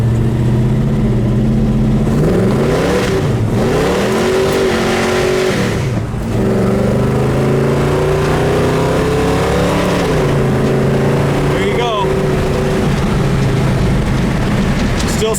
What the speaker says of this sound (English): Go ahead and try to go through the gears here.